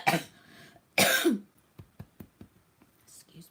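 A person coughs twice in quick, harsh bursts, then makes softer throat-clearing and breathy sounds, all close and loud.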